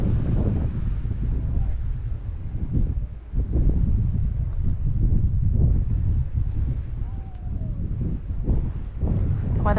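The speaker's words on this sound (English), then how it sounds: "It's a bit windy" Wind buffets the microphone in loud, gusty bursts with a low rumble throughout, and a voice can be heard faintly at times, outdoors in Montana near Yellowstone National Park.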